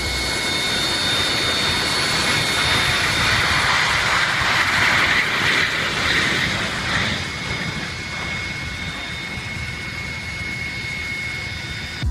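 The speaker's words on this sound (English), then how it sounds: "The 737 landed so hard its landing gear collapsed" Boeing 737 jet landing hard on a runway as its landing gear collapses, a steady loud jet engine roar with a swell of noise midway that then fades slightly.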